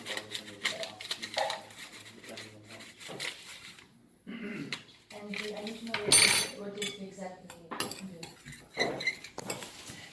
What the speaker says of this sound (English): now we take a clean dry spoon and we mix it